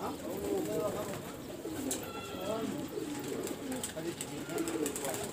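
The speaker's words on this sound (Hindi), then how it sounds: "अभी सारे कबूतर आके" Soft, low cooing from pigeons, qasid and rangeen fancy birds, comes faintly from nearby and repeats in gentle, rolling calls against quiet outdoor background noise.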